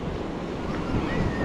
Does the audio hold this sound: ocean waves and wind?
yes